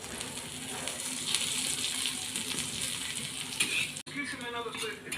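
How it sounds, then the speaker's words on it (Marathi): Salted bitter gourd pieces fry in a little oil on a gas stove, giving a steady close sizzle that breaks off briefly near the end before a softer crackle returns. "थोडंसं नमक लावून कारले फ्राय करून घ्यायचे."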